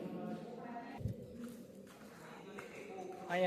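Pigeons cooing at Navghan Kuvo, an old stepwell in Uparkot, Junagadh, soft low coos echoing under ambient noise, with a person speaking nearby.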